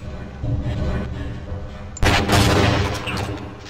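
Gunfire in the video game Half-Life during its training level: a rumbling burst gives way to a sharp, loud shot that sets off a second dense blast, all close and heavy against game ambience.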